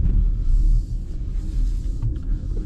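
A Chevrolet Blazer EV RS accelerating hard from a corner, giving a steady deep low rumble that stays loud and fairly even throughout, with no talk over it.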